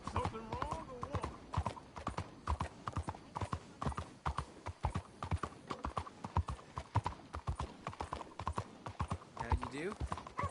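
Horse hooves clip-clop steadily and quickly in a video game, a continuous trotting rhythm with an occasional whinny, while a voice talks over it.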